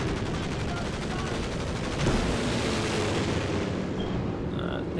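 An aircraft strafes from above in the WWII strategy game Company of Heroes 2, a dense continuous roar of rapid gunfire and impacts. It is loud and sustained, swelling at the midpoint and then tapering, with faint talk beneath.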